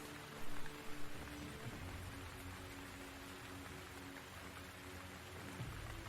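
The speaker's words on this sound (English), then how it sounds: "You know, there's no clearing. It's just raining." Steady rain falling outdoors on a wet day, a soft continuous hiss with faint patter, distant and low in level, with a few light bumps early on and no talking.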